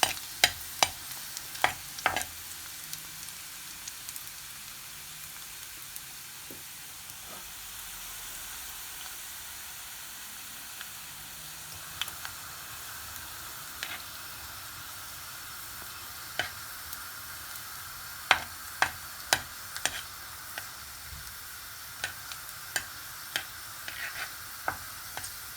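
Garlic, cumin and red chilli fry in hot oil, a quiet steady sizzle broken by scattered sharp pops and crackles, heard up close with no talking.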